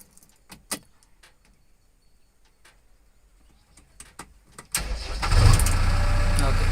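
A JCB backhoe's diesel engine cranks and catches near the end, then idles with a loud, steady rumble, after quiet clicks and a few faint taps.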